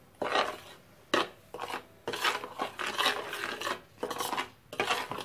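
Pizza dough ingredients and salt are mixed by hand in a bowl, making close rhythmic rasping and rubbing strokes in repeated bursts with brief pauses between them, with no talking.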